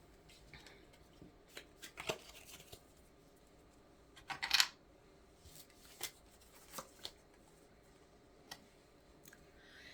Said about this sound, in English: Oh, that's a lot of cards.